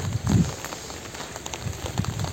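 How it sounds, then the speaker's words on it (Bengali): Steady, soft rain falls outdoors by a village riverbank, a faint continuous hiss with a brief low rumble near the start and a few louder patters toward the end. "নদীর পাড়ে যাইতেছি আমরা, কারণ বৃষ্টি হইতেছে।"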